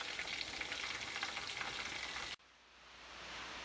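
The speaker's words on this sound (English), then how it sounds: "I finished frying the fish and it's perfect." Bass and bream fish frying in hot oil, a dense loud sizzle that stops abruptly, leaving a faint quiet background.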